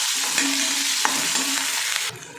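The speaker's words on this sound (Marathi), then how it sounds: "कांदा परतून घ्यायचं" Onion sautéed in a pan, a close, steady frying sizzle with occasional stirring scrapes and a sharp clink of the spatula, fading slightly near the end, with no one talking.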